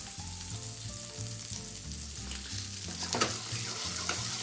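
Eggplant and blistered peppers, seasoned with cracked pepper and salt, sizzle in a pan with a dense steady hiss, while a low humming drone and a few sharp crackles and scrapes sit underneath.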